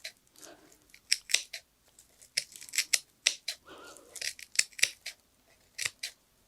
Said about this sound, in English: you can go around and just trim off the top edges